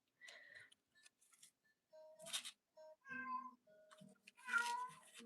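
A house cat meows several times in short, varied calls, close and clear against a quiet room, with brief gaps of silence between the cries.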